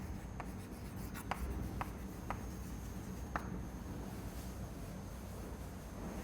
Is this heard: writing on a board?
yes